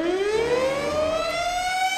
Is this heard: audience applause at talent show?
no